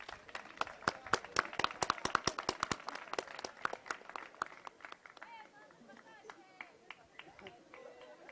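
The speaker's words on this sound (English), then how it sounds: "Final round of applause for ISD." Individual claps ring out at a school Model United Nations closing ceremony, loud and fast at first, then fading to scattered claps as voices and chatter in the room take over.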